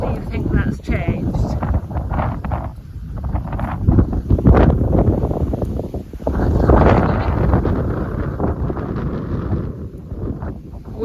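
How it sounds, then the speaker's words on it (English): Heavy wind buffeting a microphone outdoors, a loud, steady rumble and roar that swells and dips throughout the recording. "Wind's worse going that way."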